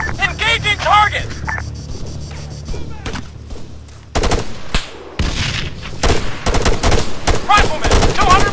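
Rifle and machine-gun fire in the military video game Arma 3, bursts and single shots of varying loudness with quieter stretches between, under radio-style shouted commands.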